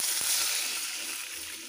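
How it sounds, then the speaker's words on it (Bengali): Water is poured into a cooking pot while making a Bengali pumpkin-greens curry with pointed gourd, giving a steady hissing splash that stays close and moderately loud for the whole moment. "জল দিয়ে দিচ্ছি,"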